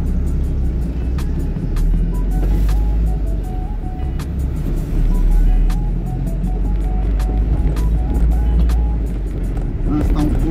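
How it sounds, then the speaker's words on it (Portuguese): Heavy late-afternoon traffic on Dante Michelini avenue, a constant low engine rumble with cars passing close by and occasional higher tonal whines over the steady road noise. "O trânsito está um pouco intenso aqui"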